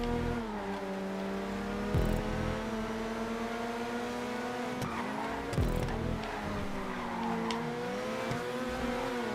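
A car in GTA 5 brakes hard on a race track with tires squealing through a corner, the engine note sliding down and up around steady mechanical droning, with a couple of sharper skid bursts.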